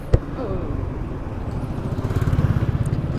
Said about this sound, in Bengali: আমার বাইক আমার ফ্রেন্ডে চালাইতেছে